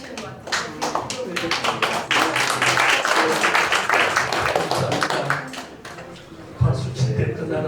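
An audience at a Korean church mission forum claps steadily and loudly throughout, a thick wash of many hands with a brief swell near the end.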